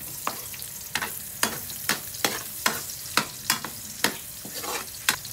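Garlic and onion sautéing in a pan for ginisang sayote, a steady sizzle broken by about a dozen regular, close spatula scrapes and taps, no talking.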